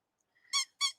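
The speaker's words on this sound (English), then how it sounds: "He squeaks. He's a squeaker." A vintage new-old-stock squeaker card gives two close, high, reedy squeaks about a quarter second apart, alone against near silence.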